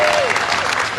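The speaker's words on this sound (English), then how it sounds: "Big round of applause for Daisy Gedeon." Steady, loud crowd applause fills a Sydney vigil for Lebanon, with dense clapping throughout and some voices mixed in.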